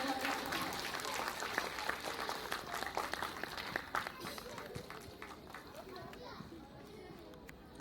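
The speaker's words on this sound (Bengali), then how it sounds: "আপনাদের একটি জোরে করতালি থাকুক" An audience claps for an honoured dancer at an event, fairly faint scattered applause that thins out and fades over several seconds amid background chatter.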